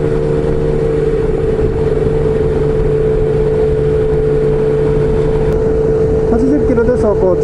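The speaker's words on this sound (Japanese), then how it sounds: "こちら80キロで走行中です。" A motorcycle rides along a highway at 80 km/h as heard from inside a jet helmet, a loud and constant droning engine hum mixed with rushing wind noise, steady the whole way through.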